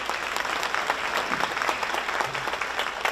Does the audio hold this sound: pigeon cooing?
no